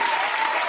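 A short, dense burst of applause from a crowd during a music mixshow, steady clapping with no gaps.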